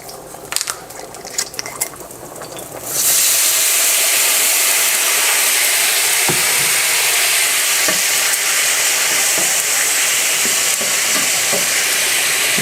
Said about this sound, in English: you're going to now add the garlic and the red chili peppers and 1/3 cup of the Pinot Grigio